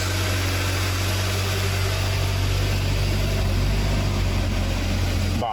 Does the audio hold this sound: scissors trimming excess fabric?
no